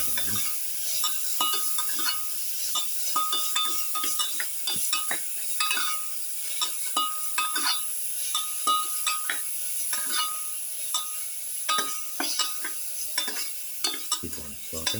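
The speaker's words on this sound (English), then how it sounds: "Keep on sauteing." Rice with black pepper, garlic and tomato sautéing in a pan, a steady sizzle broken by frequent scraping and clattering strokes of a spatula being stirred.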